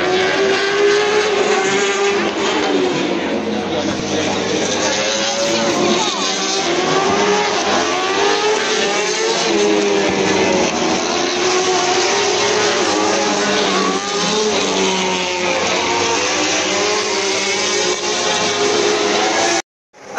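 Superbike racing motorcycles during qualifying at the Misano circuit, a continuous loud engine roar with rising and falling pitch sweeps as bikes pass and shift, steady for about twenty seconds before cutting off abruptly at the end.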